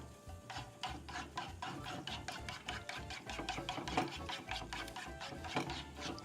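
A spatula scraping and stirring scrambled eggs in a frying pan, with quick rhythmic close strokes over a low steady background, no talk.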